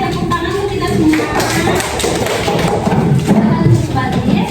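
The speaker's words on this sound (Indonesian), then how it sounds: "Oke, tepuk tangan untuk kita semua." A classroom of children breaks into applause, dense overlapping claps and taps filling the room at close range, with voices mixed in.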